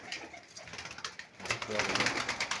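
Pigeons coo softly nearby with rustling and shuffling, a mix of low throaty calls growing busier toward the end.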